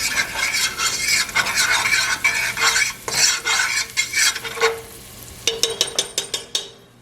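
Vegan food sizzles steadily in a pan while a utensil stirs and scrapes it, then a run of sharp clinks and taps against the cookware near the end; close, loud, no talking.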